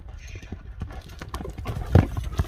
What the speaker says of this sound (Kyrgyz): Жүгүргүсү келип турган күлүк ат өңдөнөт.